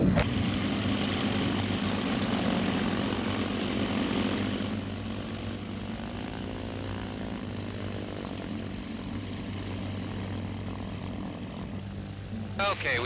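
A propeller aircraft engine runs up for a test flight, with a steady loud drone that eases to a lower, even roar midway, while people talk under the engine noise.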